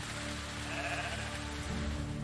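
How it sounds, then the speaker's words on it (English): Sheep in the medieval farming game Medieval Dynasty bleat in a steady, drawn-out chorus, moderately loud and close, over a constant farmyard ambience with no talking. "The other key animal is sheep."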